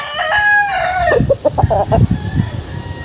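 A two-way cross gamefowl rooster crows once up close, loud and drawn out, breaking into a few rough clucks at the end.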